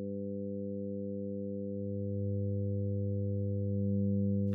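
Steady additive-synthesis oscillator tones stack into a buzzy chord on a fixed low base frequency, the lower partials swelling slightly louder partway through, sustained and alone.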